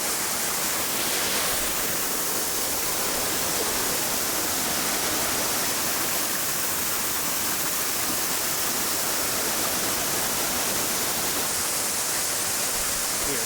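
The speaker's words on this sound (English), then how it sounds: "It's 90 degrees and that waterfall is still going pretty good." Baskins Creek Falls: a steady, dense rush of falling water fills the whole clip, a constant broadband roar with no breaks, fairly close and loud.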